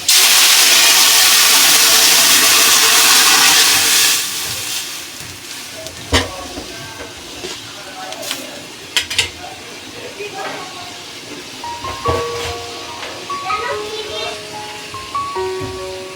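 Lentil dal poured into a hot pan of browned fried onions bursts into a loud, broad hiss for several seconds, then settles into a quieter crackling sizzle with scattered pops and clinks.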